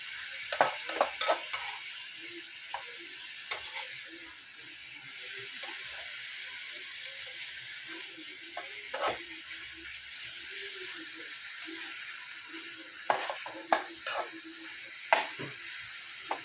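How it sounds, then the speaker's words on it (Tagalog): Chicken for adobo sautés in a pan, a soft steady sizzle with scattered clinks and scrapes of stirring close by, no talking. "Sinasangkot ko na po."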